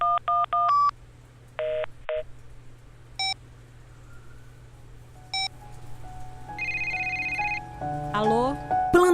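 A telephone keypad taps out the number for the CVV 141 helpline, a quick series of bright DTMF tones in short clusters, followed by a ringing tone and rising beeps near the end.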